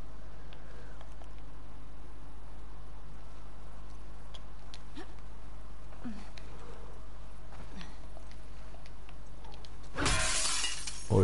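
Glass shattering in The Last of Us Part II, with a single loud crash near the end after a long stretch of quiet ambient noise and faint ticks.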